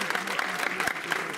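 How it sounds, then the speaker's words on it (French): An audience at a local entrepreneurs' event claps, a dense patter of many hands heard briefly and fairly faintly, with voices mixed in. "s'il vous plaît, un tonnerre d'applaudissements"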